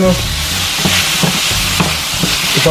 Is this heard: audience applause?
no